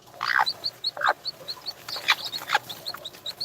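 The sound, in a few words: chickens clucking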